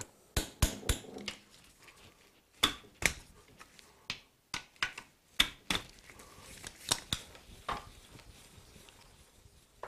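Irregular sharp metallic taps on a Honda CB450 motorcycle gear selector assembly, a couple dozen close, crisp knocks in loose clusters with short pauses between.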